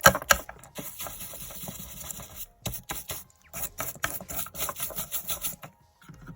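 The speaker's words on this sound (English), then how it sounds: "And the trusty shaving brush." Shaving brush scrubbing over the chassis of a Scalextric Ford Escort XR3i slot car, in short, close, bristly bursts of rubbing separated by brief pauses, with no one talking.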